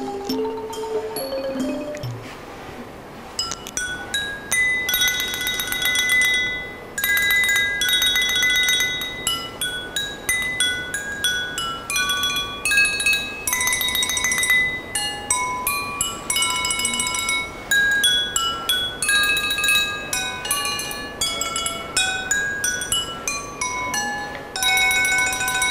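Students strike a homemade percussion set built from recycled materials, producing a steady run of bright, ringing metallic and glassy hits in a rhythmic tune that carries on for the whole stretch, with no talking.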